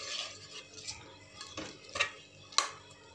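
Vegetables being stirred into masala paste in a pan for veg pulav, giving soft scraping and rubbing strokes with a few light metallic clinks, one sharper clink near the end, close and fairly quiet.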